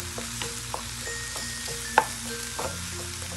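Diced ripe mango frying with mushrooms in a pan for mushroom tacos: a steady close sizzle with light stirring scrapes and one sharp clink partway through.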